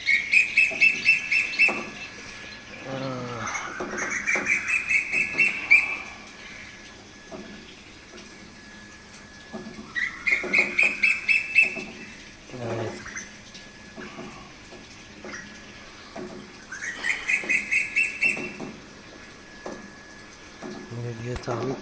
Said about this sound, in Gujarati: આ કોયલનો અવાજ આવે છે.